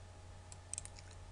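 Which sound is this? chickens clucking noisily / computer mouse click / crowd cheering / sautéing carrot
computer mouse click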